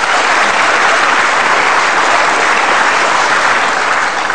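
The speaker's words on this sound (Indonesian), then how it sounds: "Kita kasih tepuk tangan untuk Bu Arta." Dense, sustained audience applause in an Indonesian television talk-show studio for judge Arta, loud and even throughout with no voices over it.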